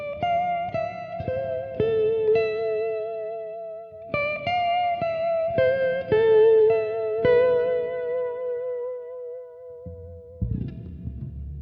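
A clean electric guitar with a creepy tone and small-room reverb plays ringing arpeggiated notes in two phrases, each note decaying with a shimmering, modulated tail before a muted scrape at the end.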